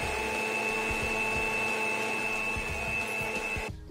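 Mixer grinder grinding onion, tomato, garlic, cumin and cashews at home, a steady loud motor whine with a high tonal hum running continuously and stopping abruptly near the end.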